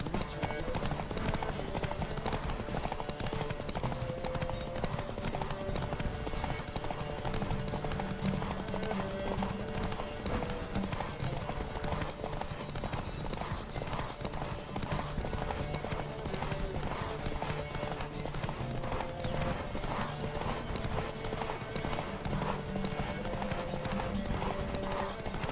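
A horse gallops in The Witcher 3: Wild Hunt, its hooves clopping in a fast, steady rhythm for the whole stretch, mixed with game ambience and an occasional whinny.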